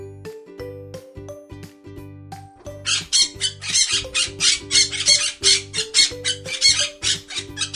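A parrot squawks in a rapid burst of harsh, loud, raspy calls over light musical backing, the squawks repeating close together for several seconds.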